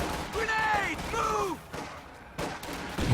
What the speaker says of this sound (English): Another Dutch volley fire.